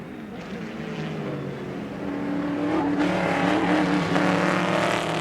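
Several vintage race cars, including Corvettes, roar continuously at Indianapolis, building in volume as the cars approach and pass close by, with a dense mechanical drone throughout.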